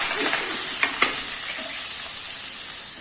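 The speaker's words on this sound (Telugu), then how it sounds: "ఆయిల్ హీట్ అయిన తర్వాత ఉల్లిపాయ పచ్చిమిరపకాయ వేసుకున్నాం" Chopped onion and green chillies fry in hot oil with a steady hiss and sizzle, and a few stirring scrapes come through early on, up close and with no talk.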